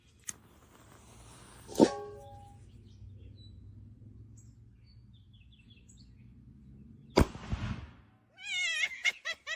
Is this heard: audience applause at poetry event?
no